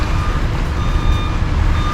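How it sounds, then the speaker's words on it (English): Motorhome backup alarm beeping steadily while the rig slowly reverses out of a parking spot, a continuous high tone riding over loud, rumbling engine and road noise. "motorhome behind me is driving me crazy with this backup alarm"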